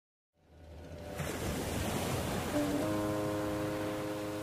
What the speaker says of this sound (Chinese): 华光轮开足了马力，驶向茫茫大海。